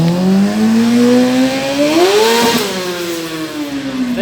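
A motorcycle engine revs loudly and close, its pitch climbing steadily, surging to a peak around the middle and then easing back down, with no talking over it.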